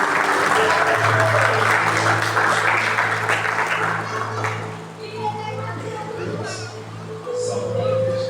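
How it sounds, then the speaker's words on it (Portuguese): Church congregation claps to welcome the preacher, dense applause at first that thins out midway, with voices and a child's chatter mixed in and a low hum underneath. "Receba o servo de Deus com palmas"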